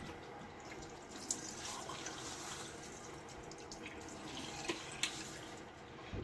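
Cold, hard tap water runs into a sink while a face is wetted before shaving, a faint steady trickle with a few small splashes from hands in the stream.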